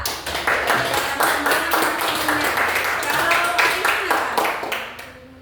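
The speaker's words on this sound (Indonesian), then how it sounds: "Tepuk tangan dulu untuk Atala" A group claps for a child named Atala, a loud, rhythmic run of hand claps in a steady beat that carries on for several seconds before fading out.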